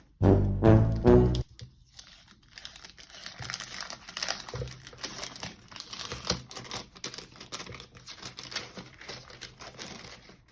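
Paper document from a Dyson Gen 5 Detect cordless vacuum box being unfolded: after a short loud burst at the start, close, steady crinkling and rustling of paper continues throughout, with no talking.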